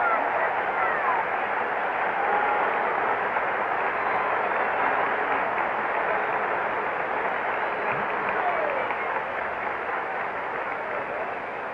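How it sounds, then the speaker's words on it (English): Stadium crowd at the 1968 World Series Game 1 murmuring and cheering as pitcher Bob Gibson comes up to bat, a steady broad roar of many distant voices filling the whole stretch with no pauses. "Listen to the reaction from the crowd as Bob Gibson comes up."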